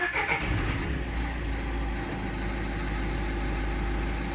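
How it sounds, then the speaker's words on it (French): A Dacia Duster with an engine warning light fault cranks and starts, then settles into a steady, close, low engine idle that fills the clip with no talking. "on démarre la voiture."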